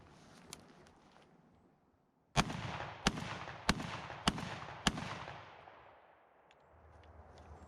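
A Mossberg 930 SPX semi-automatic shotgun fires Browning BXD BB shot outdoors, five loud sharp blasts in quick succession, each followed by a brief echoing decay.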